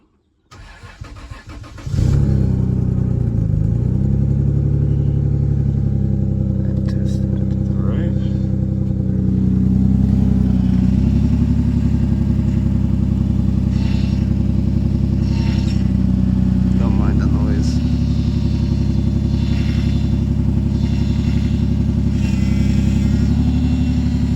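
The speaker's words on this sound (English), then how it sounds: "All right, let's try starting the car now." A Lexus IS300 engine cranks and starts after power steering pump work, then settles into a loud, steady close-up idle with low rumble, interrupted by several light revs throughout.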